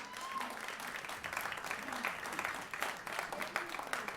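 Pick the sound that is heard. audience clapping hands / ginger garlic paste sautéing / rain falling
audience clapping hands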